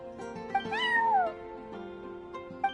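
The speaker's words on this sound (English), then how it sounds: "I'm sorry, that's my neighbor's cat." A cat in the video game Genshin Impact gives a single clear, drawn-out meow with a rising then falling pitch, close and distinct over a soft background music bed, with brief chirps before and after.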